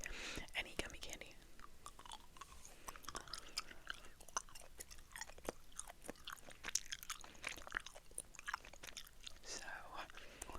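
Gummy candy is chewed close to the microphone, with soft sticky mastication and small crunchy bites repeating throughout, mixed with quiet whispered talking.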